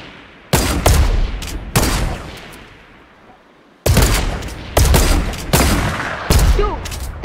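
Loud, booming sniper rifle shots in a video game, about six heavy reports with echoing tails, two early and a quicker cluster later after a quiet gap, with faint voices in between.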